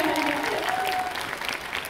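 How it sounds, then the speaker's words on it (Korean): Studio audience applauding at a Korean star live event for the film Dark Figure of Crime, a steady wash of clapping with a brief tonal whine running through it. "박수 한번"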